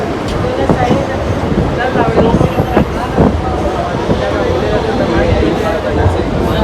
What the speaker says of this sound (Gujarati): મિત્રો જોઈ શકો છો તમે આ મુંબઈ લોકલ ટ્રેનની ગળદી કેટલી છે